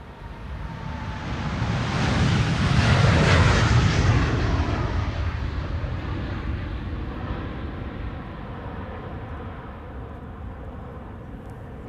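A KLM Boeing 787-10 takes off from Amsterdam Schiphol for Rio de Janeiro, a powerful rumbling roar swelling to a peak then slowly receding into a long fading drone, with no one speaking.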